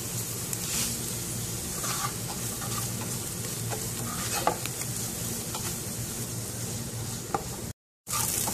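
Onions sauté with salt in a pan, producing a loud, close, continuous sizzle with occasional stirring scrapes, then a brief cut to silence near the end; no one talks.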